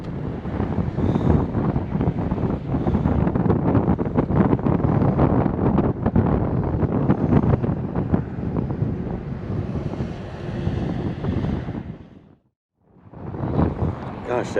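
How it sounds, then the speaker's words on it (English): Strong wind blowing across the microphone on a beach while surf fishing, a loud steady buffeting rush with surf underneath, briefly dropping out near the end before gusting back. "that wind is way harder than I thought it would be right now"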